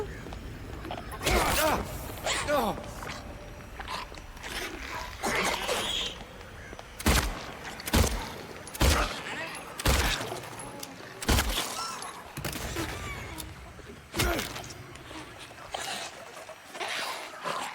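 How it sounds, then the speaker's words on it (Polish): Sharp, loud gunshots in Silent Hill 2 Remake ring out one after another in an irregular series, punctuating low background noise and scattered movement sounds. "trzy strzały w głowę"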